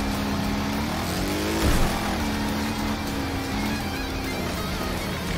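A racing engine snarls and revs during a lawnmower deathmatch event in Wreckfest, a loud continuous drone that rises and dips with a brief surge near the middle.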